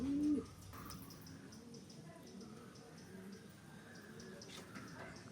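Pigeons coo faintly at a distance, with a brief louder call at the start, then a low, quiet background of soft calls.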